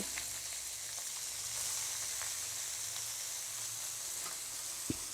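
Pumpkin flowers dropped into a hot frying pan sizzle steadily, a close, bright crackling hiss with small pops that carries on evenly throughout.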